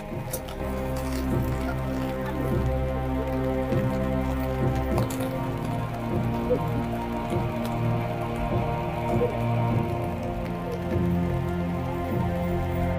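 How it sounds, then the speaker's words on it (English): Steady rain falls on surfaces in the streets of Tzfat, a dense continuous patter with drips close by that holds an even level for the whole stretch, with no voices. "I never knew it was going to be raining today in Tzfat."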